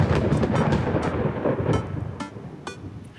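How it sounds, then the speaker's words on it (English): A thunder crack in the video game Dream Daddy, a loud rumbling roll with several sharp bursts spread across a few seconds, heard alone. "Thunder cracks and a door bursts open."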